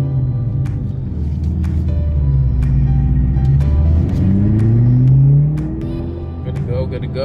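A C7 Corvette Stingray with a manual gearbox pulls away through first gear, its engine droning low and rising in pitch steadily from inside the car, with sharp clicks and a drop at the end as revs fall.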